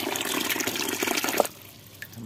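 Water runs from a tap while toy trucks are washed, a splashing, hissing flow that stops abruptly partway through, leaving a quiet room with a faint drip.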